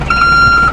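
Reversing beeps from a vehicle in a Roblox game, a loud, steady high electronic tone sounding close over a low engine-like hum for under a second.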